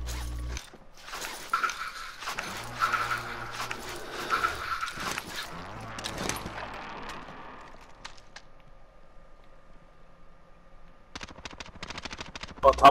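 Bursts of gunfire in the shooter Call of Duty: Warzone, scattered sharp shots and rattling mechanical clicks in the first half, with a dense rapid volley near the end, while people talk over it.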